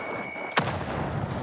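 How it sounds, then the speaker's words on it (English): A single grenade detonates in Call of Duty Warzone, one sharp, loud blast after a brief quiet stretch with a faint tone, followed by a rumbling decay. "This nade should be perfectly timed to down him."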